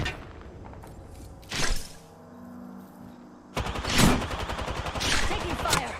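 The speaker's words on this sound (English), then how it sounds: "Taking fire." Gunfire in Call of Duty: Modern Warfare II, bursts of rapid shots cracking in two loud clusters, with a quieter pause between them and dense rattling fire in the second half.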